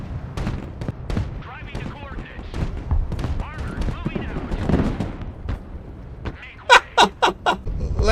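Sheridan light tank main gun firing in the video game Broken Arrow, a quick series of four sharp, loud blasts near the end, following a stretch of busy in-game battle noise and distant gunfire.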